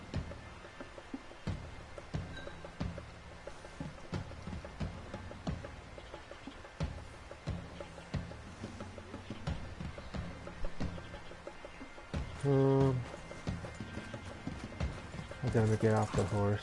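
Horse hooves clip-clopping in Red Dead Redemption 2, a steady rhythmic trot of hoofbeats with a couple of short whinnies, under a player's voice and game sounds.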